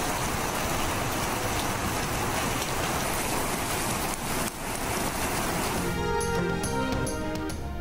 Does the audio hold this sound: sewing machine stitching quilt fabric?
no